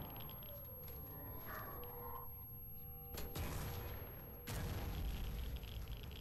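Two sudden broadband explosion booms from the game Stalker: Dead Air, each cutting in sharply and lingering as a loud, rumbling roar over steady background noise.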